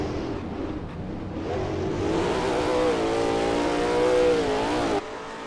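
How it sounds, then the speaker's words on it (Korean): A Ford Raptor drifts in the Assetto Corsa racing game, its engine revving loud and steady with a rising, wavering pitch that holds for several seconds before cutting off abruptly near the end. "또 드리프트 시작했어요."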